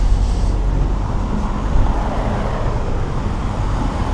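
Road traffic passes along a street in Ambleside near Waterhead in the Lake District, a loud continuous low rumble and hiss of vehicles going by close to the microphone, without talk.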